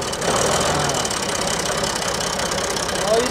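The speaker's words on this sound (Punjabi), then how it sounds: "ਟਰੈਕਟਰ ਹੋ ਗਿਆ ਸਟਾਰਟ" An old Ford tractor engine runs just after starting, with a steady knocking, chugging drone held at constant loudness throughout and a little background voice activity mixed in.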